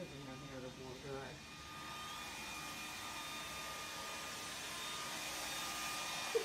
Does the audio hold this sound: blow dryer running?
yes